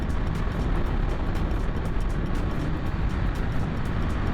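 A 2021 BMW S1000RR motorcycle engine, a full bolt-on build, holds a loud, dense roar throughout a wheelie attempt, with steady pulsing under heavy rushing wind noise and no voices.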